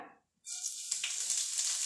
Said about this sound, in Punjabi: ਤੇਲ ਤੇ ਘੀ ਆਪਣਾ ਗਰਮ ਹੋ ਗਿਆ ਜੀ ਹੁਣ ਇਹਦੇ ਵਿੱਚ ਆਪਾਂ ਐਡ ਕਰਦੇ ਹਾਂ ਜੀਰਾ